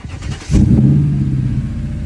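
A Haval H6 PHEV plug-in hybrid with a 1.5-litre turbo engine and electric motor revs up hard, a sudden loud, deep growl that rises and then holds as a sustained engine drone, heard alone.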